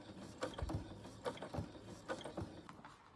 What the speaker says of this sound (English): I'm going to take it over to the sewing machine